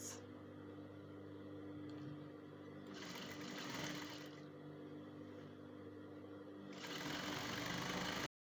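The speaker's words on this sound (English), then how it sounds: "So I'll sew the other side of it." A sewing machine stitching the slit of an off-shoulder ruched kaftan, a steady close mechanical whirr with a low motor hum, running in two bursts separated by quieter pauses.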